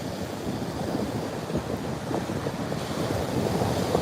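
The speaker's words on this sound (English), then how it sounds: "Is the wind okay, or is it horrible?" Wind blowing at the beach, a steady loud rumble buffeting the microphone with surf mixed in, continuous throughout.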